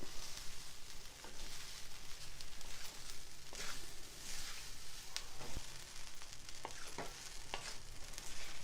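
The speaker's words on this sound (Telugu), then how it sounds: "ఈ జంతకాలు వేడెక్కే వరకు మనం ఇలా వేయించాలి." Masala janthakalu frying in a pan with a dense, even crackling sizzle throughout, joined by occasional light scrapes and taps of stirring, moderately close.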